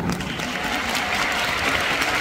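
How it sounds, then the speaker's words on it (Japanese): Steady, dense clapping from a crowd at LAY Zhang Yixing's fan meeting in Japan, loud and continuous for the whole stretch with no pause. "もう一度拍手をお願いいたします"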